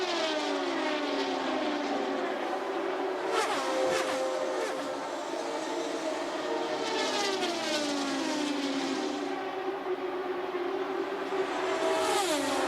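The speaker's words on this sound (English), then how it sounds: "Car heading for the pit lane." Race cars at the 2004 Indianapolis 500 scream past in a continuous, loud high-revving engine roar, with pitches sweeping up and down as cars pass and several distinct surges of cars going by.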